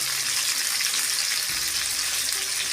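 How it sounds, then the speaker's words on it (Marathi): Prawns crackle and sizzle in hot oil over a high flame, a steady, dense frying hiss that fills the whole stretch with no voices. "ही फक्त आपण 3 ते 4 मिनिटच फ्राय करून घेणार आहोत."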